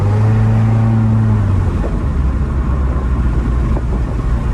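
A Honda Integra DB1 engine running rough and breaking up, a steady loud rumble with an uneven, stuttering drone rather than clean revving, heard up close without talk.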